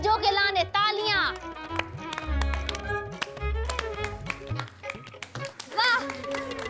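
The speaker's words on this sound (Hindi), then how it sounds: "तालियां रज्जो के लाने तालियां।" A few people in a Hindi family drama clap in bursts of sharp, close hand claps mixed with excited talking and voices, uneven and lively rather than a sustained ovation.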